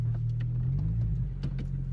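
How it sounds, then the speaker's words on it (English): A car drives along the road with a low, steady engine rumble and faint road noise heard from inside for a couple of seconds, no one speaking. "So we're gonna take it out for a drive, see how it feels."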